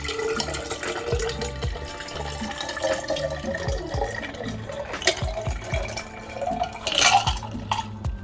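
Water poured into a tumbler for a color-change craft project, a steady trickle with small splashes and drips, close and fairly quiet, running continuously throughout.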